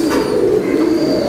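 Fancy pigeons at a commercial pigeon farm cooing nearby, a low, steady, throaty coo that fills the short moment with no talk.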